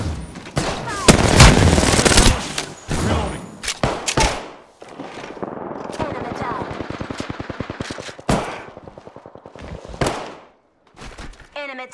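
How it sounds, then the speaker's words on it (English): Automatic gunfire crackles in Apex Legends gameplay on a laptop with an NVIDIA GeForce GTX 1050 Ti, loud dense bursts early, then rapid steady rattling shots with sharp single cracks, mixed with game effects. "Listen up, I'm getting shot at."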